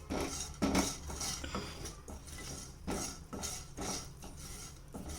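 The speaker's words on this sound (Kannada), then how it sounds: "ಈಗ ಇವೆಲ್ಲವನ್ನು ಕೂಡ ಎಣ್ಣೆಯಲ್ಲಿ 1 ನಿಮಿಷ ಈ ಥರ ಫ್ರೈ ಮಾಡಬೇಕು." Spices and ingredients fry briefly in oil in a pan for barnyard millet vangibath, heard as repeated clinking and scraping of a utensil against the pan in bursts, with a low crackle beneath and no speech.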